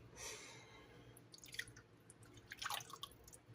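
Whole milk pouring into a bowl of self-rising buttermilk cornmeal batter, a faint trickling, dripping splash that swells near the end, quiet and close with no talk.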